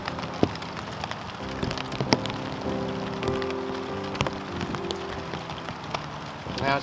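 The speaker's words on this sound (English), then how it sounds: "Now it's still coming down, not real hard, just steady, light rain." Steady light rain falling outdoors on a Christmas Eve hike, a soft continuous patter with scattered sharper drips and taps, fairly close, no talk.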